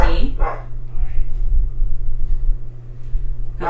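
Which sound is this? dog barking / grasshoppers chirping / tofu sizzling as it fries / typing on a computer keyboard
dog barking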